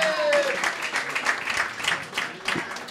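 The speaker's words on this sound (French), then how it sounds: "Milan, applaudissements pour Milan, s'il vous plaît." Audience applause at a live New Year's Eve show fills the whole stretch, steady and dense, like a roomful of people clapping together.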